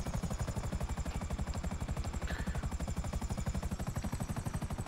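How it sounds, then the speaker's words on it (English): A helicopter in a video game, its rotor a fast, even thudding chop that stays loud and close for the whole stretch, with no voices over it. "Oh, that helicopter spawned in just as we lost it."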